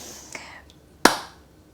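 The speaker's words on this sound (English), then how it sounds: "Why am I clapping?" A single sharp hand clap rings out close by and alone, preceded by a softer tap and a faint breathy sound in an otherwise quiet room.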